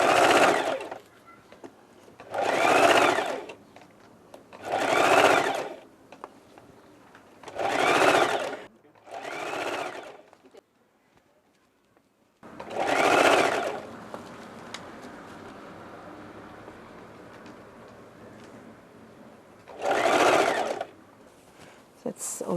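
A sewing machine stitches a pinned fabric bag in repeated loud whirring runs of a second or two each, separated by quiet gaps, with a stretch of talk in the middle.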